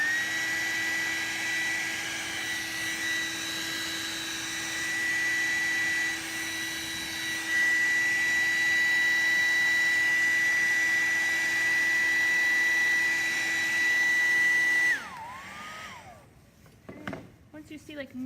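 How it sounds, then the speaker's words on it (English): A hair dryer held a few inches from poured resin hums steadily with a constant whine for about fifteen seconds, then cuts off, leaving quiet room noise and faint handling sounds. "Take a hair dryer and you can kind of just heat it up."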